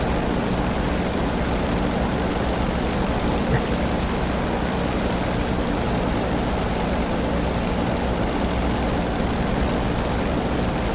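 In the DCS World flight simulator, an F4U Corsair's propeller engine drones loud and steady with a broad, constant roar that holds an even pitch throughout, and no one speaks over it.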